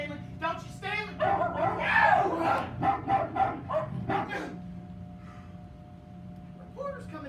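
Dogs bark and yip in a live community-theatre staging of Greater Tuna, sharp and fairly close, overlapping with actors' voices before fading into quieter stage sounds.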